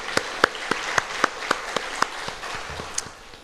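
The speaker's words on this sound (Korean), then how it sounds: "우리 주님께 영광의 박수 올려드리겠습니다." A church congregation at a Friday service claps in a sparse, even rhythm, a dozen or so distinct, fairly faint claps at a quick steady pace.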